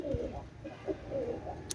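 A pigeon with milk-white eyes, a flying breed offered for sale, gives a run of soft, low, rolling coos close by, several throaty phrases following one another with no voices over them.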